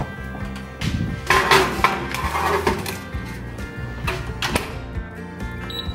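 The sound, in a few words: putting banana bread into the oven, oven door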